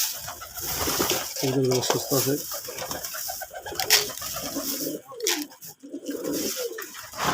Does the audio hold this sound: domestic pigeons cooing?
yes